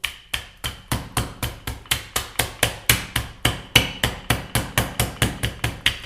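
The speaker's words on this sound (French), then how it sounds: "on va tapoter un petit peu sur notre beurre avec notre rouleau à pâtisserie" Steady, even knocks, about three per second, as a rolling pin taps firmly on a block of butter for puff pastry, each thud short and close.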